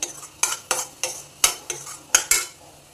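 A spoon scrapes and clinks in a pan while Kashmiri red chilli powder, coriander-cumin powder, turmeric and salt are stirred together, giving about eight sharp, evenly spaced strokes close by with a faint sizzle underneath.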